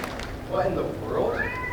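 A stage performer in a youth musical imitates a little cat with a couple of drawn-out, rising meows, close and clear over faint room noise.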